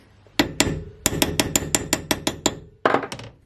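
A hammer taps a socket down onto a valve stem seal during a valve and spring replacement, a quick series of about a dozen sharp metallic knocks in an uneven rhythm with a short pause, close and clear with no talk.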